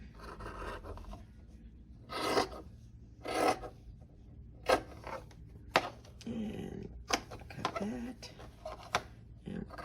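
Sewn fabric pieces for a picture frame flange border are trimmed with scissors, giving a series of close rasping snips and rubs. A quiet voice can be heard underneath.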